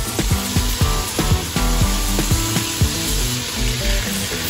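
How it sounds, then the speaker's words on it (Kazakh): Strips of meat frying in hot oil in a deep pot, a steady close sizzle with repeated clinks and scrapes of a utensil against the metal throughout, no voices. "Енді қазанымызға майымызды құйып, жақсылап қызғаннан кейін етімізді салып 7-8 минут қызарғанша қуырып алатын боламыз."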